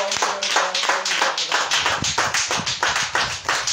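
A church congregation claps in praise of the Holy Spirit during a prophetic service, with brisk, steady, rhythmic applause from many hands, close and continuous with no talk.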